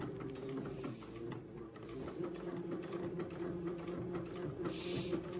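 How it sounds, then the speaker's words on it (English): A sewing machine stitches lining into place on an Eton suit, a faint, continuous mechanical hum and rapid needle chatter running steadily throughout at a quiet level. "we will sew this lining into place"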